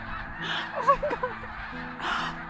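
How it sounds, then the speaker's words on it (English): Birds call near a cottage in the woods, with several short honking, goose-like calls clustered at about one second and fainter activity later over a steady background hiss. "Look at these birds, can you see them?"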